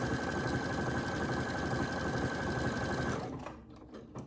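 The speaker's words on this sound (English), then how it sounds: "I want it to look like the blanket stitch" A Brother Essence VM5200 sewing machine runs steadily on a blanket stitch, a fast, even mechanical whirring and clatter heard up close, stopping abruptly near the end.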